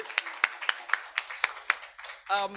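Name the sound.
audience clapping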